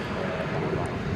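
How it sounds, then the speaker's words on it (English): A Frontier Airbus A321 airliner arriving at night from Cancun at Dallas Fort Worth Airport gives a brief, steady roar of engine noise, moderately loud and continuous. "That's an Airbus A321"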